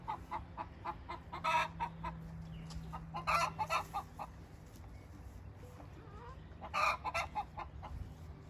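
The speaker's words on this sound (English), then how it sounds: "So we have just under 200 egg layers." A flock of nearly 200 egg-laying hens on a farm clucks in scattered bursts, several louder clusters of chattering rising over a constant low background murmur of fowl.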